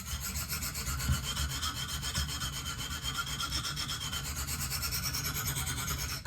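A Benchmade Steep Country knife is sharpened on a KME sharpener, with quick, repeated rasping strokes of stone against blade in a steady back-and-forth rhythm, close and fairly quiet.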